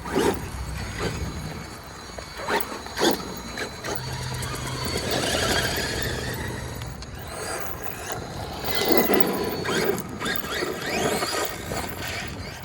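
Traxxas Maxx RC truck fitted with Sledge rear shocks running outdoors in the heat, its motor whining and squealing with rising and falling revs and some mechanical rattling, close and fairly loud, with no talking.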